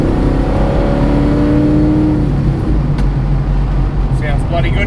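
A 1970 Ford Mustang Mach 1 with a new exhaust, redone headers and a bigger carburetor revs and accelerates hard, its loud, close engine note climbing steadily before settling into a deep, rumbling roar.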